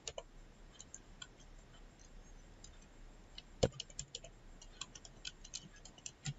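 Typing on a computer keyboard while entering table column headings, faint scattered key clicks in an irregular rhythm with one sharper tap partway through, quiet and close with no talking.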